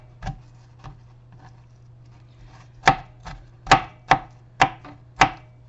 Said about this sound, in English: So I'm just cutting through my rest of my frozen peppers with this real quick.